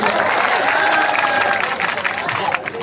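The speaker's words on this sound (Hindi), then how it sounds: "आप लोग जोरदार तालियां बजाइए।" A comedy poetry show audience breaks into loud, crowded applause right after a punchline, a thick sustained roar of clapping that thins slightly toward the end, with voices mixed in.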